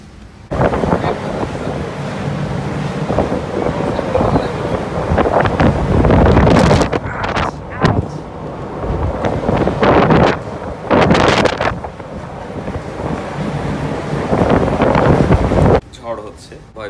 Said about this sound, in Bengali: বাইরে অন্ধকার হয়ে গেছে, প্রচণ্ড বাতাস আর বৃষ্টি